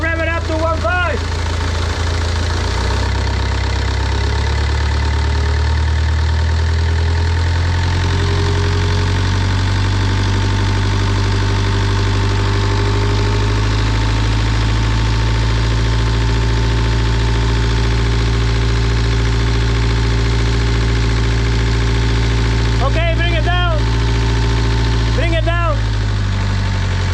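A sailboat's inboard engine runs steadily, first at idle and then raised to about 1500 rpm, its loud, even drone continuing throughout while a person briefly talks near the start and a few more voices come in near the end.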